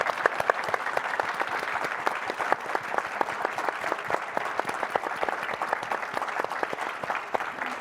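A conference audience applauds at the close of an event, a dense, steady patter of many hands clapping continuously at moderate distance with no voices over it.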